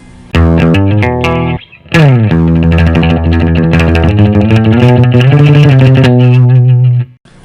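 Electric guitar with its humbucker coil split to single-coil, played with effects and an overdriven, tube-amp-like tone; loud sustained chords and melodic lines in two phrases separated by a brief pause, with no talking.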